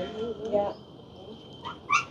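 A small young dog yelps and whimpers in alarm outdoors near a house, with a few short high cries in quick bursts, close by, over a quiet background.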